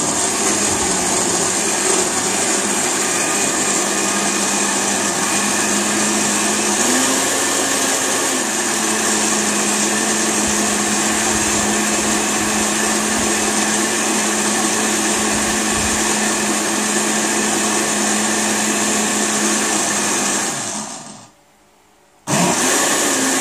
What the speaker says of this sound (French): On va mixer tout ça, bien liquide.